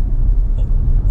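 An Audi RS6 engine surges briefly on the slightest touch of throttle, a short low rumbling swell heard close and alone.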